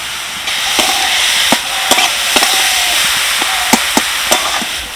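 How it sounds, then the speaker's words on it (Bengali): Vegetables frying with salt and turmeric in a pan give off a steady, loud, close hiss, punctuated by sharp, irregular spatula clicks against the pan as they are stirred. "এবার চাপা দিয়ে আমি সবজিগুলো ভালো করে ভেজে নেব"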